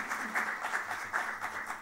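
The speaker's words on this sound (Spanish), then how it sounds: "¡Fuerte el aplauso!" Audience at a choir gala clapping in a short burst of applause, moderately distant and fairly soft, with uneven rhythmic clapping throughout.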